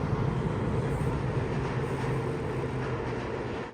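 A Seoul subway train rolls into a tunnel, a steady, loud low rumble of wheels on rail holding evenly throughout with no voices and a faint high hiss on top.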